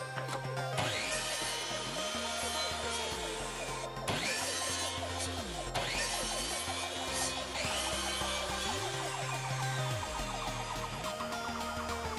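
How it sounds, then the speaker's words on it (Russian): A miter saw whines through repeated cuts on wooden tool handles, its motor pitch dropping and rising in regular cycles, loud and close with steady machine noise throughout. "поворачиваю торцовку на 5 градусов и равняю края черенков под этот градус"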